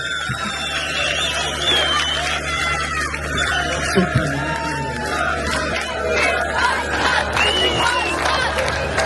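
A large concert crowd in İskenderun at a show cheers and shouts steadily for the mayor, a dense, continuous roar of voices with whoops rising above it throughout.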